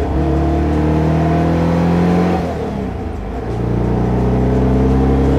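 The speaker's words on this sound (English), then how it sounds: "I'm gonna do a little pull for you guys just so you can hear the sound and feel exactly how she feels" A Porsche 356 Speedster replica with a 145-horsepower engine and short shifter pulls hard, its loud raspy engine climbing in revs, dipping briefly at a gear change, then pulling strongly again.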